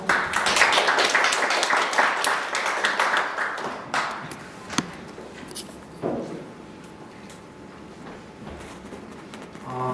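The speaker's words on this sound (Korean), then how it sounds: "그럼 오늘 강연자이신 김혜원 교수님을 따뜻한 박수로 맞아주시길 바랍니다." An audience welcomes a constitutional law lecturer with applause that is lively at first and then thins to scattered claps, with a few thuds and footsteps as the clapping fades.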